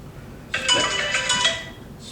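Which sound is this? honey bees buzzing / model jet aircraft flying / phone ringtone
phone ringtone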